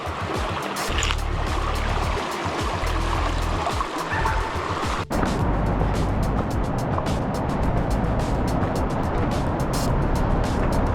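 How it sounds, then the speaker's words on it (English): Interstate 90 traffic at Snoqualmie Pass forms a continuous broadband roar heard from a mountain trail, a steady rushing wash with faint water-like hiss, moderately loud throughout. "There's Interstate 90. I was wondering what all that noise was."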